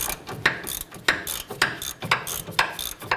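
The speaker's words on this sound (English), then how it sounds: "So we switched over to a swivel head ratchet." A swivel head ratchet clicks in a steady series of sharp, close ratcheting bursts, about one every half second, as it loosens a bolt near the tie rods on the front control arm of a 2009-2015 Honda Pilot.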